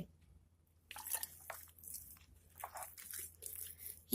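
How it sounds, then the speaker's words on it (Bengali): Flour dough mixed with flattened rice being kneaded by hand, soft wet squishing and sticky slaps in uneven bursts, close and quiet, with no talking. "অল্প অল্প করে ময়দা দিতে হবে আর মাখতে হবে"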